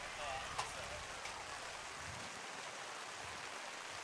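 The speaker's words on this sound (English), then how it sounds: "Pouring rain here with 1:42 to go." Pouring rain falls during a high school varsity football game, a steady broadband hiss of heavy rain filling the scene with faint distant crowd sounds and no clear talk.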